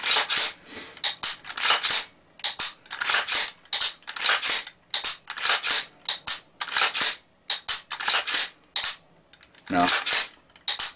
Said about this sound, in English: you hear that click, that's the trigger resetting